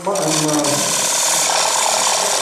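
A lathe gouge rides the bevel on a spinning dry wood bowl, cutting with a steady, loud, continuous whirring and scraping hum that holds evenly throughout without pause.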